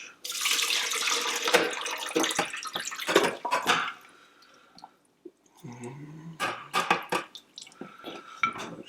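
Running tap water splashes into a sink as a broth pot is rinsed, with a steady rush for about four seconds, then quieter intermittent splashes and clinks of the pot against the basin, close and fairly loud.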